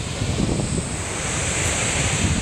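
A waterfall in Verdal, Norway roars as a dense, steady rush of falling water, loud and continuous with wind buffeting the microphone, no voices.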